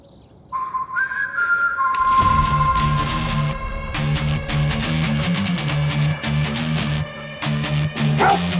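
A dog barks over a tense crime-drama scene, with sharp repeated barks mixed with a whistling tone and background music, loud and close.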